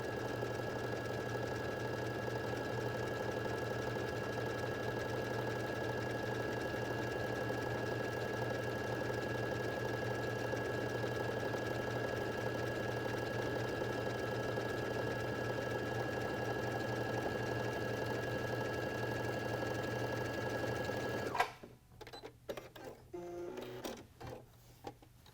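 Baby Lock sewing machine stitching pieces of quilt batting together, a steady humming drone of rapid stitching that stops near the end, followed by faint handling clicks.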